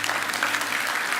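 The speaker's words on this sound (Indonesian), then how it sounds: "Yang percaya kasih tepuk tangan untuk Tuhan Yesus." Church congregation applauding together, a steady dense wash of many hands clapping throughout the short moment, fairly close and loud with no talking.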